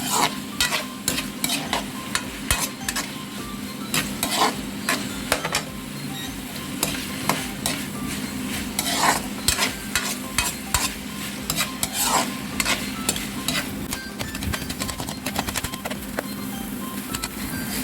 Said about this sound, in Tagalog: So halo lang ng halo para hindi masunog.